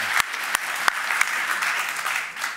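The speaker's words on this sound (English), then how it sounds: "I think all of us need to applaud that." Audience applause after a talk during an interview event, a steady patter of clapping with a few sharp, louder claps standing out, no voices over it.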